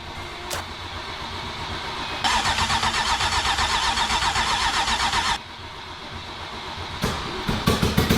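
A water-flooded Porsche engine cranks and catches, settling into a loud, pulsing run close by for a few seconds before dropping back, with clanks and knocks around it.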